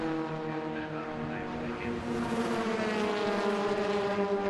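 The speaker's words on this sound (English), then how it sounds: "listen to the cars go past our pit lane camera here" Ford Fiesta racing cars in a championship race at Brands Hatch pass the pit lane camera, engines droning with a rising harmonic whine that swells louder in the second half.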